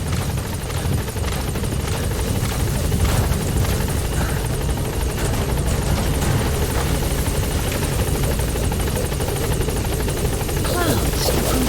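Support helicopter arriving in Metal Gear Solid V: a loud, constant rotor roar and engine drone fill the whole stretch, with faint game voices mixed underneath.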